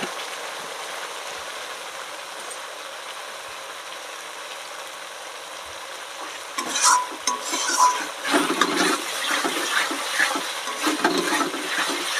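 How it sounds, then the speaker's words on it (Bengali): Chicken pieces are stir-fried in oil for kosha. A low, steady sizzle gives way about halfway through to louder scraping and stirring against the pot, with bursts of crackling close by and no voices. "সুন্দর করে কষিয়ে নেব।"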